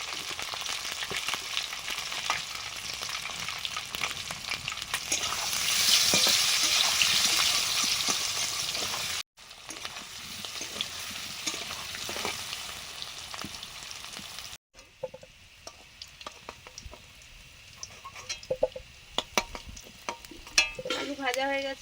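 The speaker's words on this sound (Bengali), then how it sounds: "এবারে সেদ্ধ করা আলুটা ভেজে নেব। অল্প হলুদ দিয়ে আলুটা কড়াতে দিলাম," Boiled potatoes sizzle in a wok of oil with a little turmeric and salt, a steady loud frying hiss with occasional stirring scrapes, broken by short cuts, quieter toward the end with a faint voice.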